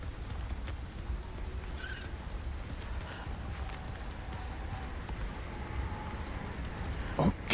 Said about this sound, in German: ich glaube, es hagelt